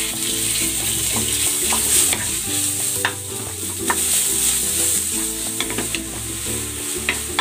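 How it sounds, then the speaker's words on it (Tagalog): Ground meat sautéed in cooking oil sizzles and crackles loudly and without a break, while a utensil stirs and scrapes the pan now and then. "Maglalagay ako ng konting cooking oil. Isasangkotsa ko muna itong giniling."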